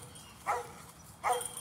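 Dogs jumping about and eager to get out yelp and whimper in two short, high bursts about a second apart, fairly faint and outdoors with no talking.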